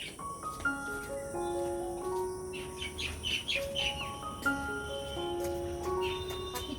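Pet birds kept at home chirp and call repeatedly, with bright overlapping tweets and short whistled notes in a lively, continuous chorus, fairly close and without talk.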